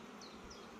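Honey bees buzz steadily at a hive in an apiary, a close, continuous droning hum holding evenly for under a second with no voices.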